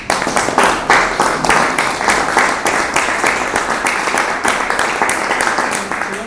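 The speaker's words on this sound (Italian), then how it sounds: "un bel applauso." An audience applauds after thanks to an author at an Italian book presentation about two frontier stories, with dense, steady clapping throughout that fills the room at even loudness.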